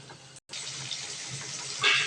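Water is poured into a pan of okra curry being cooked, a steady splashing trickle that pauses briefly, then continues and gushes louder near the end.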